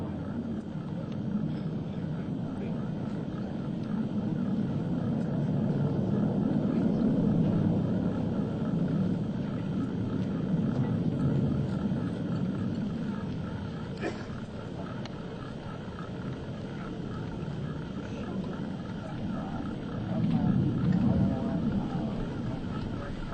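US Navy Blue Angels jets pass in formation at an airshow, a broad continuous low jet roar that swells and fades over many seconds, with a public-address voice talking over it.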